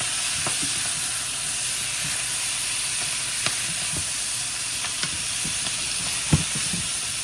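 Onions sautéing in about a cup of hot oil for spicy teriyaki chicken, giving a loud, constant hiss and sizzle up close, broken by a few faint clicks and one sharp knock, with no talking.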